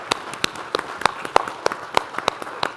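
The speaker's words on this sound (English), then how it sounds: "have a round of applause for President Hellblade" A small audience at a finance speaker series event applauds, a thin scatter of distinct individual claps with an uneven rhythm, fairly close and moderately loud.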